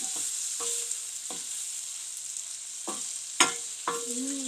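Crumbled tofu sisig cooking in a pan with oyster sauce: a spatula scrapes and stirs in repeated strokes over a light, constant frying hiss, with no talking.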